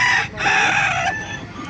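A rooster crows loudly among clucking chickens packed in a van at the Bocaue tyangge market, one long sustained crow standing out over steady flock noise.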